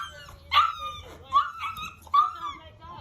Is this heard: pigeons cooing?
no